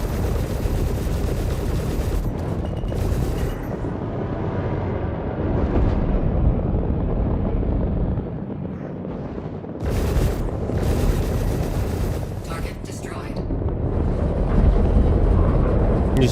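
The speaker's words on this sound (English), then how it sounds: "He's shooting some kind of cannon." Cannon fire and explosions from the space game Star Citizen boom in repeated heavy bursts over a constant rumbling engine drone, loud and dense throughout.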